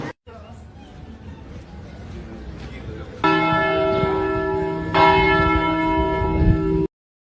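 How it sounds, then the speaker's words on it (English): Small bells ring out clearly with sustained metallic tones, a second strike renewing the ringing midway, heard over faint background murmur before stopping abruptly. "A little bit of bells, small bells are still left, and sometimes they play them"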